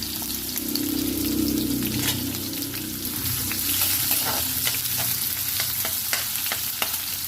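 Onion sautéing in a hot pan for ginataang talong, a close, steady sizzle with crackling pops and the occasional light scrape of stirring, with no talk over it.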